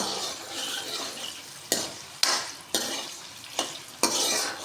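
Potatoes fry in desi ghee for a rice dish under a steady hiss, while a spoon scrapes and stirs them in the pan with five distinct strokes at an even rhythm, close by.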